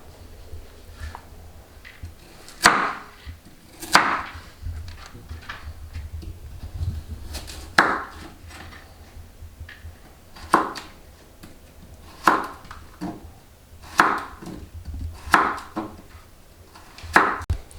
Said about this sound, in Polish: I kroimy sobie właśnie marchewkę w takie wygodne dla nas słupki